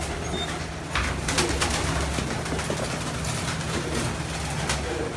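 Pigeons on a rooftop loft coo in a steady, close chorus, with intermittent rustling and wing noise over a constant low hum.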